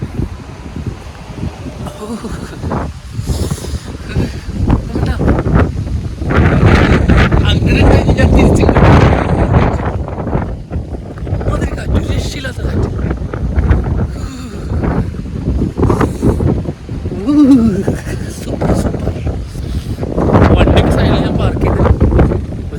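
Strong wind in Idukki, Kerala, amid rain and mist, buffets the microphone in heavy, rumbling gusts that rise and fall, with a voice occasionally speaking under the roar.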